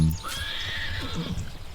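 A horse in the medieval strategy game Manor Lords gives a loud, clear neigh lasting over a second, with a faint clip-clop of hooves and low rumbling game ambience beneath.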